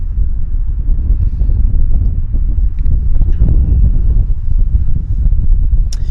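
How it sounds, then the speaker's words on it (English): Steady wind gusting across an open airport apron at Vancouver Airport, a dense low rumble of buffeting against the microphone that holds level throughout, with faint scattered rustles and no voices. "The wind eased up just a little bit"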